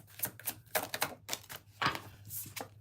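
Tarot cards shuffled by hand, a quick run of crisp papery riffles and snaps in irregular bursts, close and fairly quiet with no talking.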